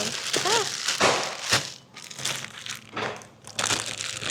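Paper grocery sack crinkling and crunching as it is handled in a supermarket, with irregular rustling bursts and sharp crackles close by, mixed with a faint voice and store background.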